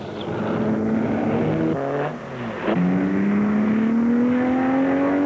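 1960s race cars such as Ferraris, Cobras, Porsches, MGBs, Sprites and Corvettes practicing at Sebring's airport-runway circuit, loud engines roaring and shifting gears, with pitch rising steadily as one accelerates past nearby.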